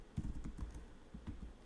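Quick, light clicks of typing on a computer keyboard, a short irregular burst of keystrokes at close range in a quiet room.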